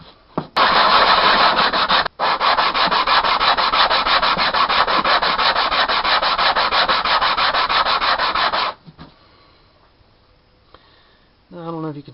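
A whetstone is rubbed flat against a surface to redress it, making a loud, close, rhythmic gritty scraping that runs steadily for several seconds, then stops and gives way to quieter handling noises.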